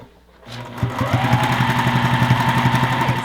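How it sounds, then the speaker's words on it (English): A sewing machine stitching dots onto scarf lining, starting up and then running in a fast, even mechanical rattle, loud and close with no talk. "I'm going to sew the lining and the pockets onto the lining"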